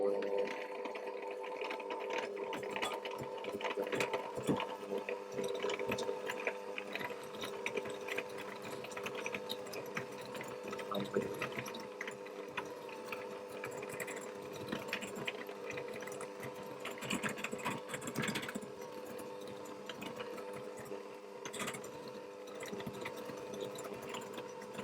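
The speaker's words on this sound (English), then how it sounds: "I'm going to use my hand mixer" A handheld electric mixer creams butter and sugar, giving a constant whirring mechanical drone with slight rattles that runs the whole time, fairly quiet and steady, with someone talking at times.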